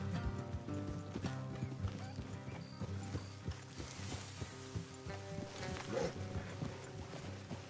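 Horses gallop in a PS4 video game, their hoofbeats clopping steadily beneath dense game music and effects for the whole stretch.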